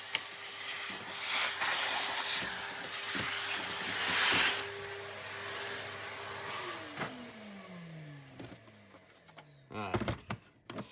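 A Hoover vacuum cleaner whirs and hisses close by while sucking up scattered foam, its motor running for several seconds before winding down with a falling pitch, followed by clicks and handling knocks.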